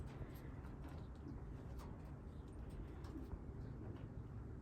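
Soft, low racing pigeon cooing repeats outdoors against a steady background murmur, somewhat distant and faint.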